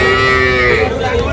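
At a rural cattle market in Kaharol, a deshi-breed dairy cow gives one long, loud moo right up close. Faint market noise sits underneath.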